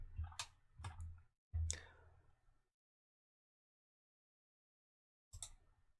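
Computer mouse clicks at a desk during CAD design work: a few sharp, close clicks in quick succession, then silence, then one more click near the end.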